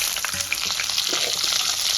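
Whole spices for a potato dal tempering hit hot oil in a pan, giving a dense, continuous close sizzle and crackle with a few small pops throughout.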